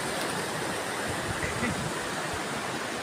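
Sea waves roll and wash along the shore in a steady, broad rush of surf, close and constant, with a faint voice underneath.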